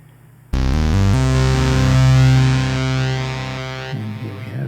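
Synth run through a Boss RE-202 Space Echo with distortion engaged, a loud, gritty sustained chord with a few stepped notes at the start, thick and buzzing, then cutting off into a fading echo tail.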